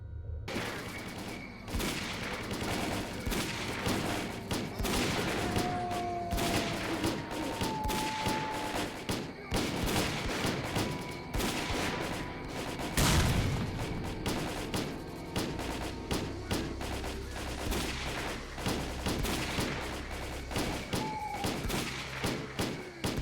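Sustained firefight in S.T.A.L.K.E.R.: Call of Pripyat against exoskeleton-armored enemies, with dense, continuous volleys of rifle shots and bursts rattling steadily for the whole stretch, loud and close, with occasional heavier thuds.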